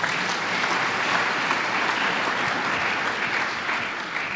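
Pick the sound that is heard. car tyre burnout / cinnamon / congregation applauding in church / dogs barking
congregation applauding in church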